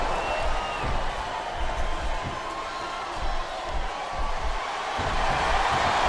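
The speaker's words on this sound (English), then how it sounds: "This capacity crowd is making their opinions known tonight." An arena crowd in the wrestling video game WWE SmackDown vs. Raw 2007 roars and murmurs steadily, a dense, sustained wash of cheering that swells slightly near the end, with no commentary over it.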